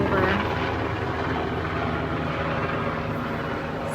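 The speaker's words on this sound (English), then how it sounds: "oh, there's a helicopter passing over." Helicopter passing overhead above an outdoor garden, a steady, loud rotor drone filling the whole stretch, sounding fairly close and holding even throughout.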